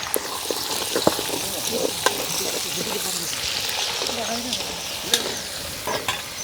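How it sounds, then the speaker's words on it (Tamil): Mustard, fennel and fenugreek seeds tempering in hot oil in a wok, a steady sizzle and crackle with scattered sharp pops from the seeds, close and continuous. "தாளிக்கிறதுக்காக கடுகு பெருஞ்சீரகம் வெந்தயம் எடுத்துருக்கிறேன்."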